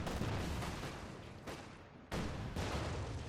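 Heavy gunfire from guns in the video game Company of Heroes 2, loud dense blasts in a few overlapping bursts with a brief lull before another volley, no voices.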